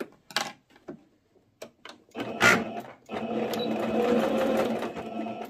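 A sewing machine stitching an elastic tiered skirt, first a few short taps and clicks of handling, then a sustained close whirring run of stitching for the last couple of seconds.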